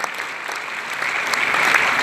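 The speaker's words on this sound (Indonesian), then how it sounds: "Yang setuju berikan tepuk tangan yang meriah buat kita." An Indonesian church congregation breaks into loud, sustained applause during a sermon, a thick burst of clapping that swells slightly toward the end, with no clear talking over it.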